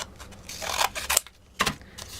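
Scissors cutting a small piece of toilet paper roll cardboard, a few crisp, close snips in quick succession with brief pauses between them.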